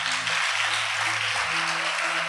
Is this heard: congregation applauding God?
yes